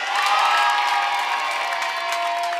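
A live television studio audience cheers and applauds loudly throughout, a dense continuous wash of clapping and shouting from a crowd.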